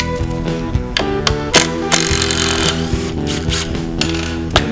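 Impact driver with a PHLiPBiT double-ended bit backing out Phillips screws, a close, loud, steady mechanical chatter punctuated by sharp ratcheting clicks and knocks throughout.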